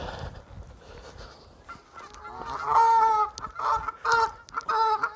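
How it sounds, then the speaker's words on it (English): Several geese on the Macclesfield Canal honk loudly and repeatedly in overlapping, agitated bursts that grow louder and more frequent partway through. "these swans, or geese I should say, they're proper kicking off"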